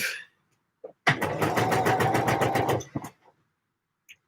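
A sewing machine stitches the back seam of a Deer and Doe Lupin jacket in one close, steady run of rapid rhythmic clatter lasting about two seconds, bracketed by faint handling clicks.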